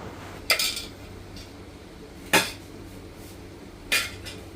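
Utensils knocking on a pan on a stove, three sharp metallic clinks spaced a second or two apart over a quiet background.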